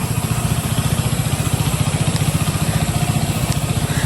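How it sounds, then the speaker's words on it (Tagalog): A grass cutter engine runs steadily and loudly close by, its low throbbing pulse continuous and unbroken with no voices over it. "Dito po kami mag-grass cutter."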